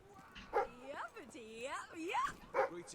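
A dog in Fable 3 gives a few short barks and yips alongside whimpering, whiny sounds, close and fairly quiet.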